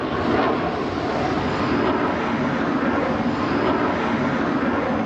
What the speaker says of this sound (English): Cheli flaunts the plane's maneuverability to the onlookers at this year's Paris Air Show